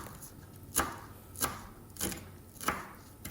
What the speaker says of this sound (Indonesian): Lalu potong-potong itu seledri dan bawang sedikit saja ya